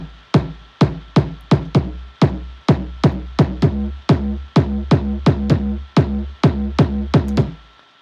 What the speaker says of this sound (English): It's a VST solely for making kick drums.